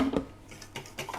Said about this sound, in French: on remet tout en casserole.